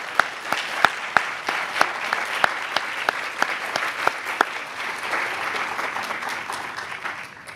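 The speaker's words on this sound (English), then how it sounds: "I think they deserve another round of applause" Audience applause at a postdoc science slam, dense steady clapping with sharp individual claps standing out, holding loud and close for several seconds before thinning slightly toward the end; no talking.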